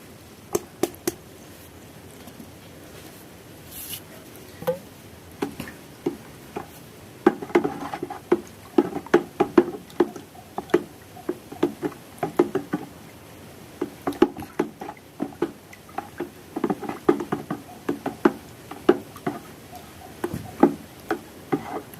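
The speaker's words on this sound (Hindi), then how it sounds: "तो सबसे पहले हम इसमें चूने को घोलेंगे।" Lime being stirred into 15 litres of water in a container, giving a steady run of irregular soft knocks and scraping taps close by, with no talk.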